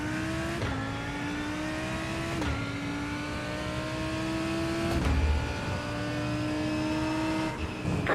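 GTP prototype race cars in the iRacing sim at Portimao, a steady high engine drone with several upshifts and a car sweeping past, loud and continuous with no talk.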